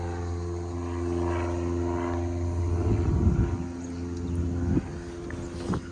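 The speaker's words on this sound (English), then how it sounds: "that's a loud plane" A loud, steady engine drone with deep low rumble throughout, building slightly midway, like an aircraft passing overhead.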